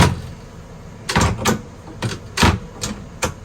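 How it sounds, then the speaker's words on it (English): A louvered cabin door aboard an Island Packet 439 sailboat is opened and caught by its magnet catch, producing a series of sharp close clicks and knocks. "we can open up the door, and you can see how the magnet grabs the door"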